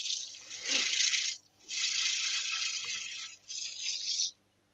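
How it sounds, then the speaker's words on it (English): Abrasive paper is held against a spinning yew platter-bowl on a wood lathe, making three soft, hissing rubbing passes separated by brief breaks, close and steady. "Bit of sanding."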